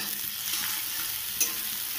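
Onions frying in a pan for a Maggi noodle dish, a close, steady hissing sizzle with soft crackles and one brief sharper pop near the end, no speech.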